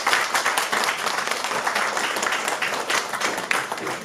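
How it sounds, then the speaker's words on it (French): An audience claps together in a room, a dense, steady patter of many hands that stays loud and continuous for a few seconds with no speech over it. "Est-ce qu'on peut applaudir pour elle, s'il vous plaît?"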